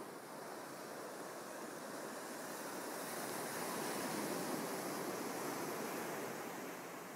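Ocean surf at high tide near sunset, heard from a large rock on the shore: a steady, broad wash of breaking waves that swells slightly toward the middle, with no voices.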